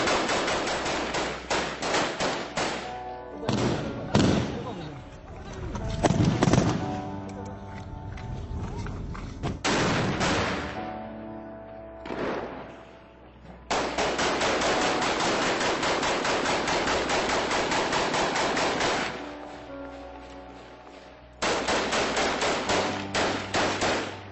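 A gunfire exchange between Kurdish forces and IS fighters on a road, with loud sustained bursts of automatic fire and heavy thuds crowding together, long unbroken volleys alternating with shorter rattling runs.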